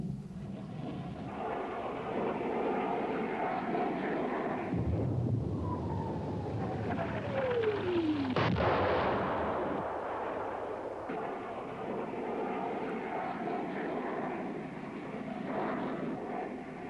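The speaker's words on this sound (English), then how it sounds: "Powered by a huge afterburning turbofan, the AJ-37 Attack Viggen is the first and most numerous of a variety of versions" A Saab AJ-37 Viggen attack jet with a huge afterburning turbofan roars past, a loud broad rumble that swells and sweeps downward in pitch as it passes, then a lingering roar with wind buffeting on the microphone.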